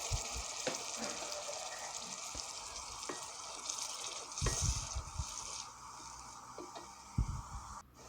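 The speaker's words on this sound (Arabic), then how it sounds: "هننزل اهو بالقوطة ونسيبها تتسبك شوية" Tomato sauce in a pot bubbles and sizzles softly for stuffed cabbage, with light stirring clicks and a few sharper knocks of a utensil against the pot.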